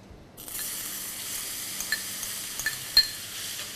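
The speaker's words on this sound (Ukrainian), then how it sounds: "Коли цукор розтопився, потрібно додати наше почищене яблуко." Peeled apple dropped into melted sugar in a pan, a steady broad sizzle rising after a quiet start, with a few light clinks of a utensil against the pan near the end.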